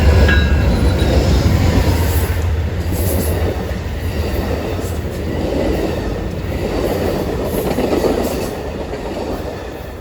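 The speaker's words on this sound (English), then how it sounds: "behind this inbound Metra was Amtrak number 4, which is the inbound Southwest Chief coming out of Los Angeles" Amtrak's inbound Southwest Chief, a long-distance passenger train from Los Angeles, rumbles past near Chicago on the BNSF line with a loud, steady roar and faint rhythmic wheel clatter throughout.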